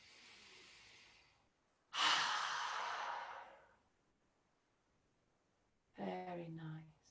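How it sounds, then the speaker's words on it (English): A single slow, deep inhale taken close by, soft at first and then swelling into a strong, airy draw lasting over a second, followed by quiet and a short stretch of voice. "Take a nice deep breath in."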